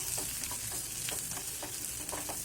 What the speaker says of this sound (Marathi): हा मसाला देखील आपण शिमला मिरचबरोबर थोडा वेळ परतून घेतलेला आहे